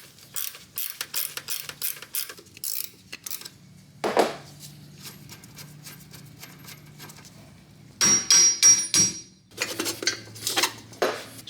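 Ratchet wrench clicking in repeated bursts while a 13 mm bolt is backed out of a sway bar end link on a 2015-2022 Chevy Colorado front suspension, close and crisp, with metallic tool clinks between runs and no talking.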